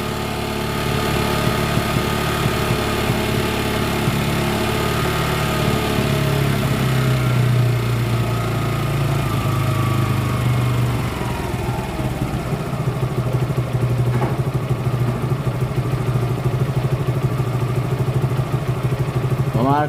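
A motorcycle engine idles loud and close for about twenty seconds, its steady throb carrying a clattering knock from the engine, with revs dipping midway and a brief voice near the end.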